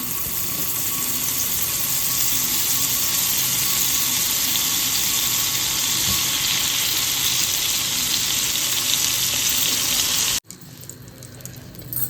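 Butter heating on a tawa before fish fry, giving a continuous loud, even sizzle and crackle up close that runs steadily for about ten seconds, then drops off abruptly to quieter background noise.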